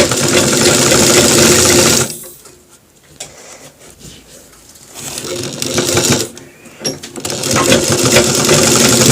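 A sewing machine runs zigzag stitches along a shirt collar, a loud steady mechanical whir in two long bursts with a pause between them where the motor stops.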